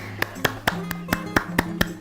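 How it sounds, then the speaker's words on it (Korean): Hand clapping by a single person during a temple-stay vlog at Hwagyesa Temple on Bukhansan, about ten sharp, evenly spaced claps in quick rhythm, close to the microphone. "박수 쳐야지"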